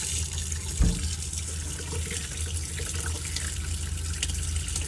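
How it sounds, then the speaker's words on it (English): Hot water runs from a tap in a Mobilvetta Top Driver motorhome, a continuous splashing flow into the sink with a brief knock near the start and a steady low pump hum underneath. "just come over to the tap and pull the cold water through and then the hot"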